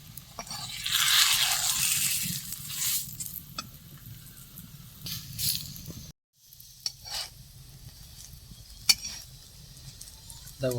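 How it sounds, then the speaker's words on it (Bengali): Dough frying in hot oil on a tawa, a steady sizzle with stirring and scraping that swells, breaks off briefly, then resumes with occasional sharp clinks. "রিমির বাবা এগুলো সব ভাজবে"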